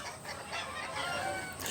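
Tiger breed chickens and roosters on a poultry farm cluck faintly and keep up a low, steady, scratchy murmur of bird sounds, distant and unbroken.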